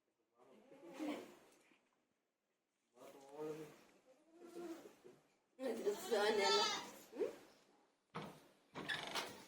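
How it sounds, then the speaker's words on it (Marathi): Goats bleat close by in a series of wavering, nasal calls, several overlapping, separated by short quiet gaps. "हे इकडं त्यांच्या शेळ्या"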